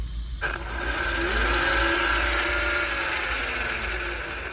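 A Hobao Hyper GTB RC car's engine revving under throttle, a steady high buzzing whine that rises in pitch and holds, close and fairly loud after a brief click at the start, no talk.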